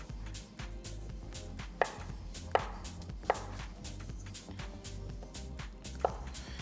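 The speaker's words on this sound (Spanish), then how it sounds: "vamos a disponer de cortar nuestros ñoquis" A knife cuts potato gnocchi dough into pieces on a board, making steady, close, rhythmic chopping taps with a few sharper knocks.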